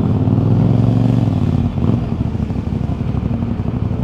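CFMoto NK450 motorcycle engine rumbles loud and close, a dense low throb that dips briefly midway and then carries on with a choppy pulsing idle, no voices over it.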